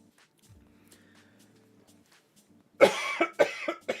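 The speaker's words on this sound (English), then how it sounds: "I'm trying to keep from coughing in y'all's ears." A man coughs several times in a quick close burst after a quiet stretch with faint background noise.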